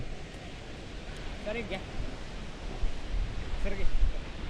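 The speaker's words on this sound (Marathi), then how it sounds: "फक्त पाण्याचा आवाज येत दिसत काहीच नाहीये" Rushing water of Kalu waterfall, heard from the top in thick fog: a steady broadband roar that swells slightly toward the end, with faint voices in the background.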